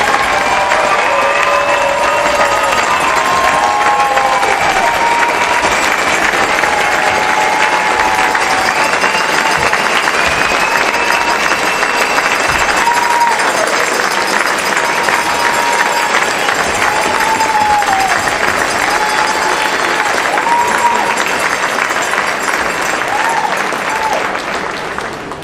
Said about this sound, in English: So one last round of applause this year.